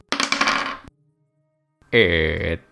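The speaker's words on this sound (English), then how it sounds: "Roll the dice." Dice rolled during a Dungeons & Dragons tabletop game: a quick clattering burst of tumbling dice, then silence, then a second louder rattling roll, close and alone.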